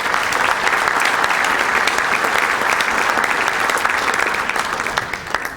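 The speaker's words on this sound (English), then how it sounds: "Let's have a round of applause for all of them" Sustained applause from an audience at a Middlesex Chamber of Commerce breakfast, a dense steady clapping that stays loud throughout and tapers slightly at the end.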